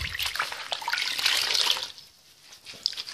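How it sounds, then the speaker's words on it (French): Water splashing and sloshing in a small basin, close and continuous for a couple of seconds before easing into quieter trickles and drips. "Ensuite, une petite bassine d'eau."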